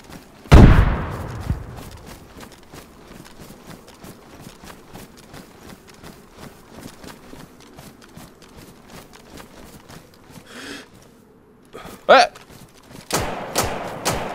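A grenade in DayZ bursts with one sharp, loud blast near the start that decays into rumbling, followed by scattered thumps and a few later bangs, with voices talking in between.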